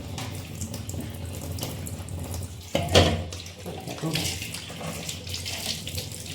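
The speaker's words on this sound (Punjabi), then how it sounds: "ਉਹ ਵੀ ਮੈਂ ਪਾਣੀ ਚ ਪਾ ਕੇ ਧੋਣਾਂਗੀ" Water splashes and trickles as bitter gourds are rinsed and handled in water, with a brief louder splash midway.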